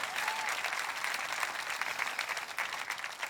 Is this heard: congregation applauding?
yes